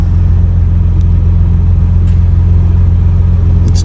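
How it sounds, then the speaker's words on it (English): Ford Bronco in Baja drive mode, its exhaust giving a loud steady low rumble at idle close to the microphone, with no voices over it. "Let's give it so you guys can hear a little Baja exhaust."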